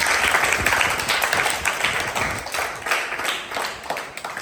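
Children applaud for Diyanshi at a Guru Purnima gathering, a steady, loud patter of many hands clapping close by that keeps going throughout without letting up.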